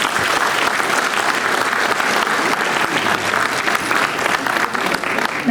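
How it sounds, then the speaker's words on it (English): Sustained applause from a large crowd, dense and steady clapping throughout at a loud level. "May we have a round of applause for the authors"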